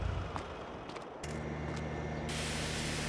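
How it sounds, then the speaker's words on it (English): Water spraying from a working car wash on the Alma Missouri map in Farming Simulator 22, a steady broadband hiss that holds throughout and brightens toward the end, with no talking. "We have a working car wash."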